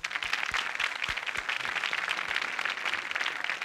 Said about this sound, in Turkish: Gerçekten buradan Aysel Gürer'i alkışlıyoruz